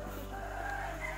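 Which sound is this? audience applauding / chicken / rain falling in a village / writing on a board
chicken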